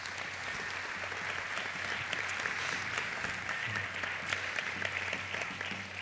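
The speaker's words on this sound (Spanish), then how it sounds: "Un aplauso para Marta" A crowd at a traditional costume festival in Zamora applauds for Marta, giving steady, even clapping throughout with a faint low hum underneath.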